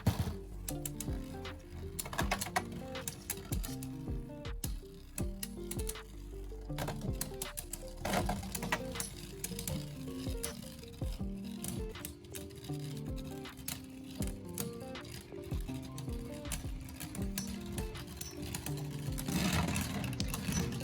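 Beyblade Burst QuadDrive tops Arc Balkesh in core mode and Dynamite Belial in low mode with no gears clash nonstop, a rapid, close clatter of plastic ticks and knocks that runs steadily for the whole battle.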